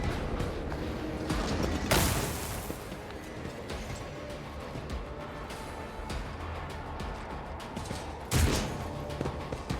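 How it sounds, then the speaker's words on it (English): Gunfire in the turn-based game Rogue Trader: scattered weapon blasts, with two sharp, loud bursts standing out near the start and end over a low, busy battle background, no talking. "Stop shooting my poor servitors."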